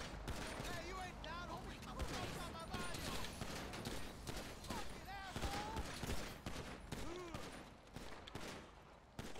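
Dense gunfire rattles in the GTA video game, with rapid volleys running throughout under excited voices.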